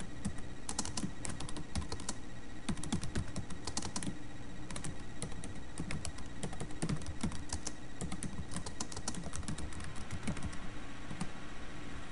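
Steady, rapid typing on a computer keyboard, close and fairly quiet, with continuous key clicks running throughout and no voices.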